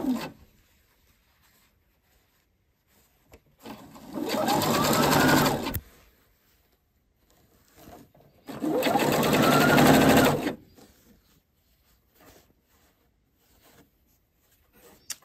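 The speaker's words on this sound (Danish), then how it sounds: "Og så syr vi dem sammen." A sewing machine stitches fabric edges together in two loud, close bursts of a couple of seconds each, separated by quiet pauses.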